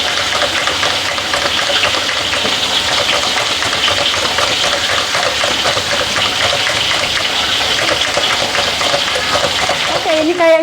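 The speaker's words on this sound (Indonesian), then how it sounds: "Kubisnya saya tumis sama carrot." Cabbage and carrot stir-frying in a pan, a loud, constant close sizzle with steady hissing and faint clatter throughout.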